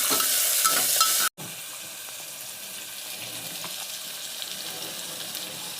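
Onions frying in a pan for potato gravy, a steady close sizzle broken by a brief silent gap early on, then continuing evenly at lower level.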